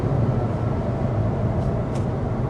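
Lexus IS 350 F-Sport V6 accelerating, heard from inside the cabin as a steady broadband engine and road drone, fairly loud and continuous, with no voices.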